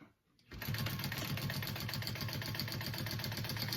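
After a short silence a sewing machine starts and runs steadily, stitching a teddy backpack with a rapid, even mechanical whir and close, continuous clatter.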